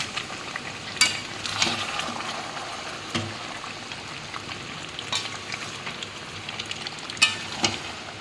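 Mutton and potatoes frying and being stirred in a pot: a steady sizzle with several sharp scraping stirs at irregular moments, moderately close, with no talking.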